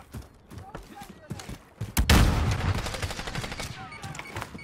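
Bursts of video game gunfire, shooter game, crack out in rapid volleys, sparse shots at first and then a dense, loud barrage from the midpoint, with game voices underneath.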